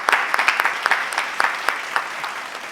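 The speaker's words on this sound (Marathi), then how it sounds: "एकदा रसिक प्रेक्षकांसाठी जोरदार टाळ्या झाल्या पाहिजे असं मला वाटतं" An audience at a Holi 2021 comic poetry gathering in Akola claps loosely, with distinct individual claps ringing out over a scattered patter that thins toward the end.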